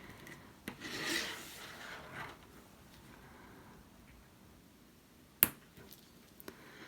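A metal snap fastener is pressed onto a crocheted toque. Soft rubbing and handling lead up to one sharp, close click near the end, followed by a fainter tap. No one speaks.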